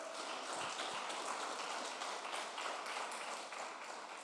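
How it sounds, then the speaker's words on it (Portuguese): Church congregation clapping steadily during a worship service, a dense continuous patter of many hands at moderate loudness, without pause throughout. "Bota as palmas para Ele"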